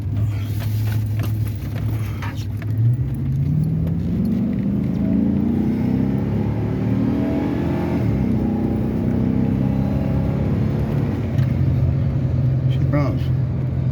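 A 3/4 ton four-wheel-drive GMC truck with a 6-liter engine lugs down the road. Its steady low engine drone rises in pitch as it accelerates, then settles back into a sustained rumble.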